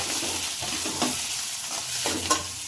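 Ground turmeric and chili powder being stirred and sautéed in a pan for masala paniyaram: steady close sizzle and hiss with a few soft spoon scrapes, no voices.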